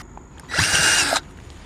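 A power drill boring a hole for a bolt during a router installation gives one short, loud, high whine of under a second, close up, with quiet surroundings before and after.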